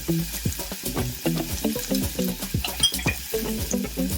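Onions sizzle in a hot pan over medium-high heat while a utensil stirs them, scraping and tapping in a steady rhythm over continuous loud frying, with no speech.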